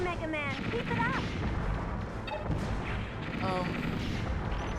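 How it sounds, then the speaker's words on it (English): An explosion in the PlayStation video game Mega Man Legends 2 booms continuously through dense, loud game noise, with rumbling blasts and short electronic chirps layered on top. "look at that explosion"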